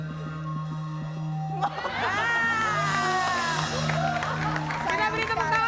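Studio audience on a talk show breaks into loud applause and cheering that swells and fills the room, following a steady hum and under-layer of voices.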